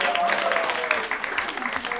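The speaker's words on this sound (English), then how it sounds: "Give them a round of applause." A round of applause from a small gathered audience at a Christmas cheese event, moderate clapping that carries on under a voice that stays audible through it.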